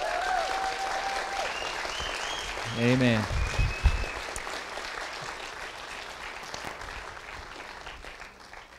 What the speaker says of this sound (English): will you give him a round of applause?